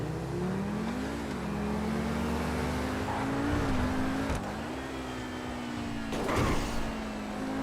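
A supercar engine in GTA 5 Online hums steadily and rises and falls slightly in pitch, with brief louder bursts of revving, alone and fairly constant throughout.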